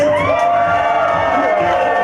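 Wedding guests cheering and whooping loudly for the groom at a reception, a dense, sustained crowd roar filling the whole moment.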